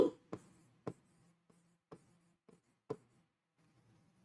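Chalk or marker strokes on a board during a maths lesson, a series of short taps and scratches at irregular intervals, close and fairly quiet, with no talking.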